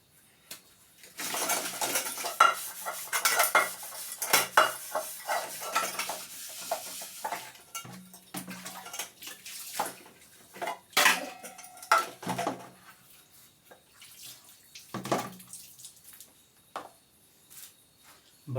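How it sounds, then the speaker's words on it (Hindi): Dishes, pots and utensils are washed in a home kitchen: irregular clinks, clatters and scrapes of metal and crockery with splashing, moderately close, steady across the stretch and without talk. "बर्तन धोने का काम तो लगभग हर घर में होता है"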